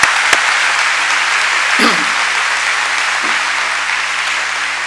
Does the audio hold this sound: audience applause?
yes